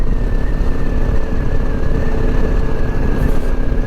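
A KTM 990 Adventure motorcycle rides past as a steady, loud engine drone with a sustained whine, holding even for several seconds without any talk.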